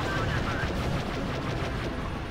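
Gunfire in the original Star Wars Battlefront 2 played on Xbox One, a dense continuous rattle of blaster and rifle shots mixed with battle noise that stays loud and steady throughout.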